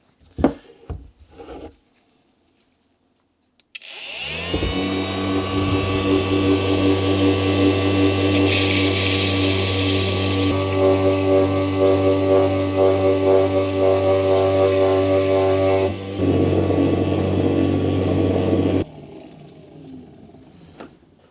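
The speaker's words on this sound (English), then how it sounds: "just take a sander with some very fine sandpaper and try to straighten it out" Power sander fitted with very fine sandpaper working a part of an NSU machine, a loud steady whirring drone that starts abruptly, shifts pitch partway, and cuts off, with no one talking over it.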